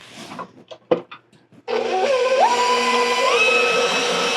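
Electric mixer whirring through cream cheese pound cake batter, starting abruptly after a few soft knocks and then running steadily with a motor whine that rises in pitch as the speed increases.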